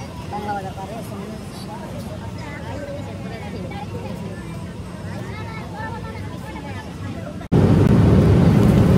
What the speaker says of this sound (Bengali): আলহামদুলিল্লাহ আমাদের বিমান যাত্রা শুরু করেছে কাতারের দোহার উদ্দেশ্যে।